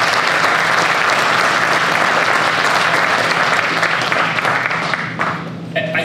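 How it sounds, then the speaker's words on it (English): Audience applause at a 2023 Fabrica Lofts building ribbon cutting, a steady, dense clapping that fills the space for about five seconds before tapering into scattered claps. "round of applause"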